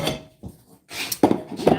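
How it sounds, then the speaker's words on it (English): A frying pan handled on a kitchen stove while making grilled ham and cheese, a few short metallic clanks and scrapes separated by brief pauses, close and fairly loud. "I got my frying pan"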